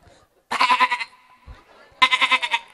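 A human voice imitates a goat kid bleating, giving two separate wavering, nasal bleats close up, each lasting about half a second, with a quiet gap between them.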